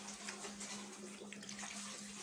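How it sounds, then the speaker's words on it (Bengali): Running water splashes steadily while a garment is washed by hand in a sink, a continuous faint rush with a low hum underneath and no talk. "জামাটা আমি একটু ধুয়ে ফেলবো এখন।"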